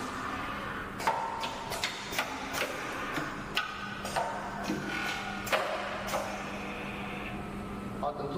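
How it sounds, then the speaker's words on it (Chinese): An automatic strap webbing cut and sewing machine cycles through its motions, giving a run of sharp mechanical clicks and clacks at an uneven rhythm over a low motor hum, with someone talking over it. "我必须这里先按一下启动，让这些动作做完"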